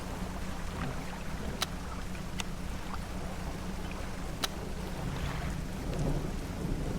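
Thunderstorm with lightning in the fishing game Dredge: a steady low rumble of rain and rolling thunder runs throughout, broken by a few sharp, bright cracks of lightning.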